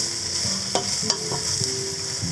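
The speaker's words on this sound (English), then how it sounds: "Now the shiitakes, in they go. Another quick stir." Shiitake mushrooms tossed into a pan with portobellos and stirred briskly, a steady frying hiss with a couple of quick scraping knocks from the utensil, close up and alone without speech.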